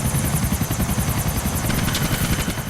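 A helicopter in GTA chops steadily and loudly, with fast, even rotor pulses and a high engine whine running through the whole stretch, and no voices.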